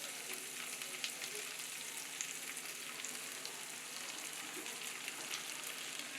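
Poha for vegetable bataka poha, added to a pan with sautéed vegetables, sugar and salt, giving a soft, even frying hiss with light crackles, fairly quiet and continuous, with no talking.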